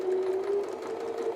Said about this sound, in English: I'd just do a few stitches forward and then a few stitches back